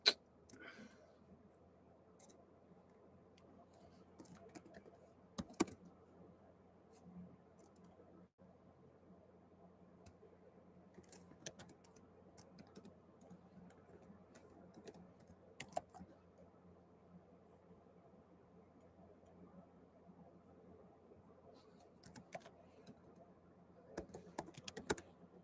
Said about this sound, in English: Just move some shit out of my way so I can type.